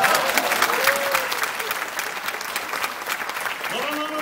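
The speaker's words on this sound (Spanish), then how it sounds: "Un aplauso para los comadres que saliendo de aquí van a hacer eso." A live audience at a talk gives the comadres a round of applause, a dense, steady clapping with a few voices and shouts rising through it near the end.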